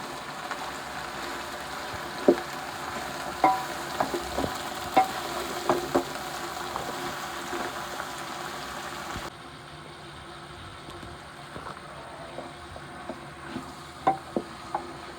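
Bell peppers, carrots, peas and turnip being mixed in a cooking pan, with steady soft sizzling and a string of sharp scrape and clink strokes from the utensil, a low background hum under it, and no talk.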